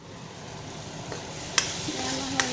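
Mustard seeds and fenugreek frying in hot oil in a home kitchen, a steady close crackling sizzle with a couple of sharp pops near the end.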